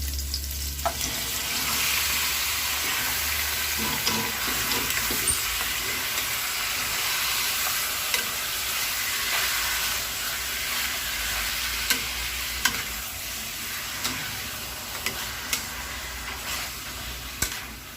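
Chicken for adobo sautés in a pan, a loud, continuous frying sizzle running throughout with occasional faint scrapes and taps of stirring.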